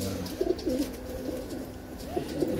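Pigeons kept by a pigeon fancier coo in soft, repeated low burbles over a faint ambient background, with no talk.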